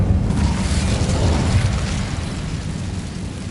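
An Incendio fire spell is cast in the video game Hogwarts Legacy, letting out a loud whooshing burst that rumbles, then fades into a lower roar.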